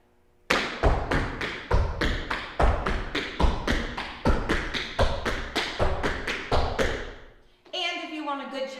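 Tap shoes strike a hard floor in a quick, even run of spank and heel steps moving forward, crisp taps and thuds repeating steadily before a brief pause and a voice speaking.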